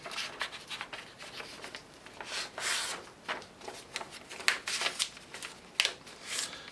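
Paper chain-of-custody form being folded and slipped into a transit bag, continuous close rustling and crinkling with short scraping bursts.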